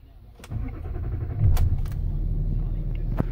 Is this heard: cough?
no